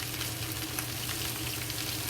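Whole cumin seeds frying in hot oil, a dense, steady close sizzle with no voices, cooked before fried cabbage with bacon.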